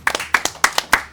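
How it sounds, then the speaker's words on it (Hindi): Audience clapping in a studio show: about seven sharp, close claps in a quick, slightly uneven rhythm, with no talk over them. "वाह जी वाह, तालियां"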